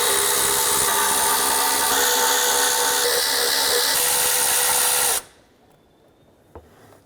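Power tool whirring steadily while loosening 10 mm timing cover bolts on a 2009-2015 Honda Pilot, loud and continuous for about five seconds, then stopping abruptly, followed by near silence and a small knock.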